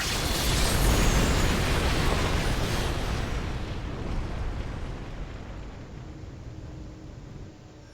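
Weapon systems firing in StarCraft 2 produce a loud, sustained explosive roar and rumble that slowly fades over several seconds, with no voices.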